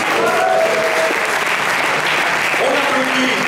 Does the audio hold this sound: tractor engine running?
no